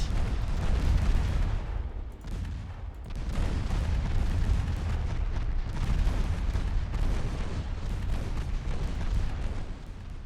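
Naval battle explosions in the warship game Ultimate Admiral Dreadnoughts as torpedoes strike a ship, with deep rumbling booms rolling continuously and loudly, swelling and fading in waves with no voices.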